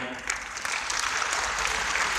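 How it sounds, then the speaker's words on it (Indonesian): A church congregation at a pre-Christmas and anniversary service in Manado applauds the worship choir, a steady, fairly soft round of many hands clapping continuously with light background voices. "Kita tepuk tangan juga untuk mereka."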